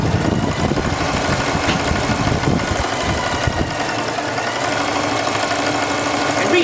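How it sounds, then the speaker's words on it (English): Sewing machine stitching a French seam at 3/8 inch along pinned fabric, a steady continuous mechanical whir that runs loud and unbroken, thinning slightly toward the end. "We're going to go over to the sewing machine, and now we're going to sew 3/8"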